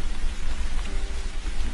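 Steady heavy rain pours down at night, a dense continuous hiss with a low rumbling undertone that fills the whole moment without any voices.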